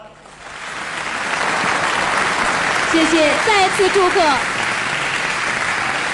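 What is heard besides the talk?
audience applause at award ceremony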